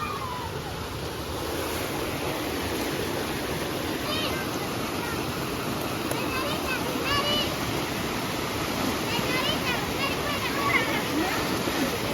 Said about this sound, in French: Mais on va faire une cascade